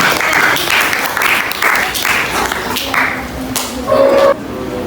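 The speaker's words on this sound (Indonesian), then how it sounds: "Kita berikan aplaus yang pertama." A class audience at a school event claps in a dense, fairly loud burst that rises and falls in waves for several seconds, with a brief tonal squeak near the end.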